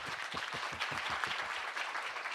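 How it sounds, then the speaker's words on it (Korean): A conference audience welcomes a speaker with a brief burst of applause, many hands clapping together in a dense, even patter that holds steady throughout. "큰 박수로 맞이해 주십시오"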